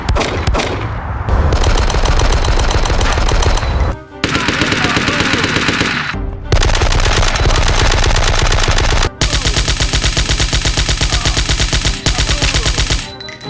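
Video game gunfire modelled on a film, rapid automatic bursts firing in long sustained strings, loud and close, broken by a few brief pauses between volleys.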